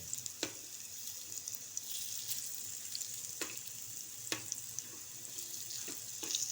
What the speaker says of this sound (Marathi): चांगल्या दोन्ही फ्राय करून यांना फ्राय करून घ्यायचा म्हणजे अगदी कुचकुचीत होतात